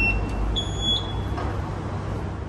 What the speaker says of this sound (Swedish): Och det piper, men det händer ingenting